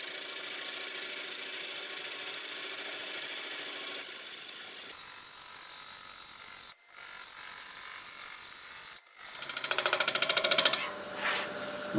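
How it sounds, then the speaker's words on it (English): Wood lathe at 820 RPM turning a big walnut slab with a freshly sharpened 5/8 swept-back bowl gouge, a steady close hiss and rasp of cutting with brief pauses and a brighter scraping stretch near the end. "Freshly sharpened 5/8 swept back bowl gouge, and we're doing 820 RPMs."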